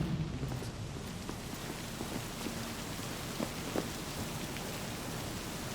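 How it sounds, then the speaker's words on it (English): Steady rain falls in the video game Cyberpunk 2077, a continuous even hiss of drops with a few faint footstep-like taps, heard alone with no talking. "Oh man, it's raining."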